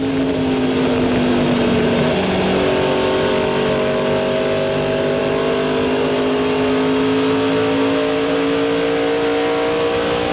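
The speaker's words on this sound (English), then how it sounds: "let's listen to him as he drives the car up out of the corner as Jeff Green goes down the straightaway" A race car in the 2000 Sam's Club 200 powers out of a corner onto the straightaway, its engine a loud, sustained roar with steadily rising pitch as it accelerates, continuous and close for the whole stretch with no talk.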